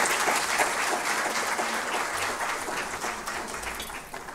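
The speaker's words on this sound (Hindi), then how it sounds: "एक बार तालियों के साथ स्वागत करते हैं" An event audience breaks into sustained applause to welcome a speaker to the stage, a thick, continuous roar of clapping that stays loud throughout before easing slightly at the end.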